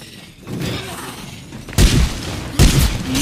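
Two heavy, booming large-calibre gunshots ring out in the zombie-survival game State of Decay 2, each a sudden loud blast with a short decaying tail, over a low ambient game background.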